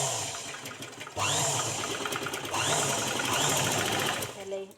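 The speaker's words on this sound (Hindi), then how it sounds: "इस तरह से सिलाई डाल देंगे।" Sewing machine stitching a cotton blouse, loud steady motor whir in two long runs with a brief pause between, close and dominant while a voice speaks over it.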